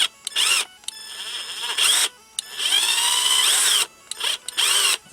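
A power drill backs a screw out of a Commodore 64 Mini controller in about five short whirring bursts, one longer than the rest, with brief silent gaps between them. The drill is close and loud.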